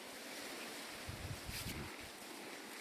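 Wind rushes steadily past the microphone, with broadband roaring gusts that swell briefly and settle back, outdoors in a hazelnut orchard.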